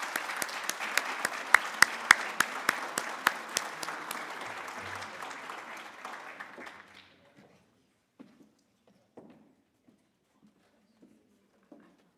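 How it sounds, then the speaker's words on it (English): Lecture audience applauding to welcome a speaker, a brisk round of clapping for about seven seconds that then stops abruptly, leaving only a few faint scattered claps and noises. "Let's welcome her with a round of applause."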